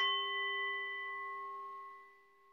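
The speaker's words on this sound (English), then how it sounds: "I'm going to start with the sound of a bell inviting us to come home to ourselves" A single meditation bell strikes once and rings out in a clear, pure sustained tone that fades slowly in a quiet room, with no talking over it.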